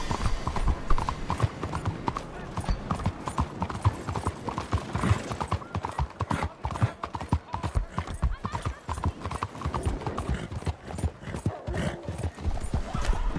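Horse hooves clip-clop steadily in Red Dead Redemption 2, a close, continuous rhythmic patter that runs the whole time beneath a busy game soundscape and occasional voices.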